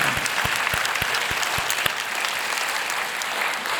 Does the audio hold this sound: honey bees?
no